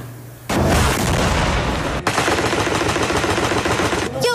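Missile strikes and explosions in southern Gaza with ground fire support: after a quiet start, a sudden loud, dense barrage of rumbling blasts and rapid cracking fire rolls on for several seconds before cutting off.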